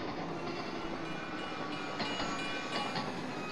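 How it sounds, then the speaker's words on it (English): Steady rumble and rattle of a train ride in the video game Splatoon 3, a continuous broadband rolling noise with faint rhythmic clatter, heard alone without talk. "Okay, so now we are aboard the train."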